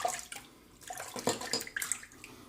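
Water splashes and dribbles as a shaving soap brush is wetted, close-up, with a few irregular bursts of trickling and dripping over about two seconds, no voices.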